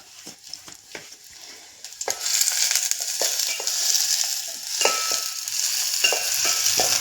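A traditional vegetable dish of haland root fries while being stirred, with scattered spoon taps at first and then a loud, continuous sizzle with repeated scraping and knocking against the pan.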